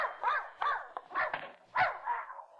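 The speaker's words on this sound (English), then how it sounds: "I came for Mrs. Pondecker's dog to take him for a walk." A dog in an old-time radio drama barks repeatedly and close up, five or six sharp yapping barks in an uneven rhythm, clear and alone without talk.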